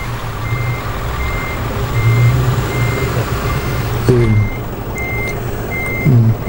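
A truck reverses with steady rhythmic reversing beeps, nearby and loud, over a low diesel engine rumble with a brief hiss of air brakes and no talk.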